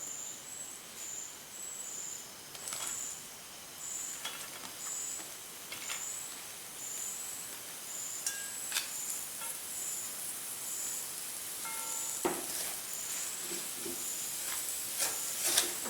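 Sliced onions frying in a pan for shallow fried chicken curry give a steady, bright sizzle and crackle throughout. Occasional clinks and scrapes of a utensil stirring rise above it.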